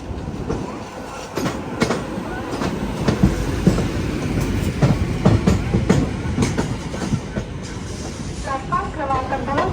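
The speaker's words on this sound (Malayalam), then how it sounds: "ഇവിടെ ഒരു ട്രെയിൻ ഉണ്ട്." A train rumbles past close by at Kasara station platform, with rhythmic clattering wheels and a brief metallic squeal near the end, people talking faintly underneath.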